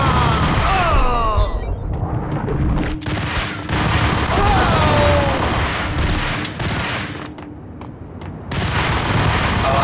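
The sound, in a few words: gunfire in Max Payne video game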